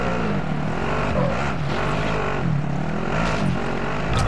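A vehicle engine in Call of Duty Warzone drones steadily and loudly, with a motorbike-like rumble rising and falling slightly in pitch as the ride continues, with no break.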